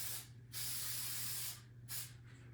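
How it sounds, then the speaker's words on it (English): Aerosol spray can hissing onto a vintage primitive rabbit picture frame, two sustained bursts with a short pause between, steady and close. "I do need to spray this real quick."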